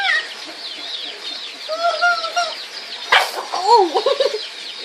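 A loose chicken clucks in a handful of close, distinct calls, with a brief burst of rustling or wing flapping in between.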